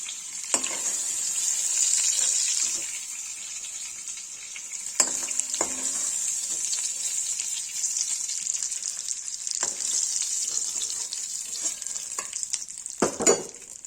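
Paneer cubes frying in butter in a pan, a bright continuous sizzle with occasional spatula knocks and scrapes, close and steady with no voices.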